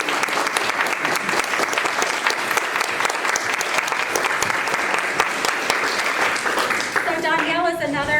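An audience at a Virginia General Assembly honoring gives a sustained round of applause, dense and steady clapping from a crowd, tapering near the end as a voice begins to speak.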